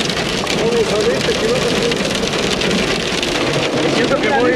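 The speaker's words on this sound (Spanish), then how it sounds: "Es granizo" Hail drums hard on a car crawling slowly through a storm, a dense, loud, continuous patter on the roof and body, with someone speaking over the din.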